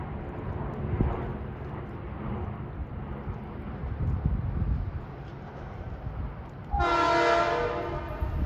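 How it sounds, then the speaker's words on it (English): Metro-North commuter train 772, bound from Croton-Harmon to Grand Central, sounds a loud, steady horn blast near the end of the clip at Ardsley-on-Hudson, preceded by rumbling trackside background noise. "Waiting for train 772 from Croton Harmon to Grand Central at 4:42."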